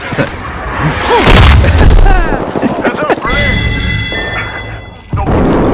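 A grenade blows up in the Apex Legends game with a deep boom, followed by a rattle of gunfire and gameplay noise, while voices talk over the action.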